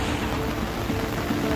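Torrential monsoon downpour during the Nainital flood, a dense, unbroken hiss of heavy rain close by.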